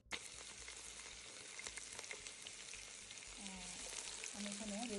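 Garam masala sizzles steadily in hot mustard oil in a pan, with a continuous bright crackling hiss and a few louder spits, ending with a faint tonal squeak near the finish.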